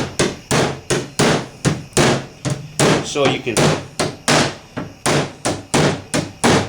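Rapid, evenly spaced metallic hammer blows from a body hammer on car sheet metal of a 1979 Trans Am, about two per second, loud and close, with a brief spoken phrase partway through.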